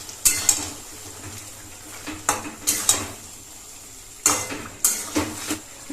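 Chicken vindaloo is stirred in a pan after about two spoonfuls of vinegar go in with the nearly cooked chicken. A metal spoon scrapes and clanks against the pan in irregular bursts, with a soft sizzle between strokes and no talking.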